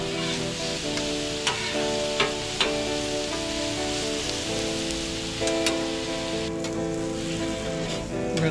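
Steak sizzling and frying on a flat-top griddle before potatoes go down, a steady dense crackle with a few sharper pops and scrapes throughout.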